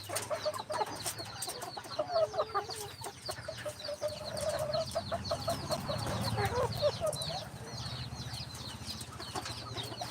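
Chickens cluck and murmur close by while pecking and eating scattered feed, with a continuous chorus of soft, repeated clucks and occasional louder calls over a low background hum.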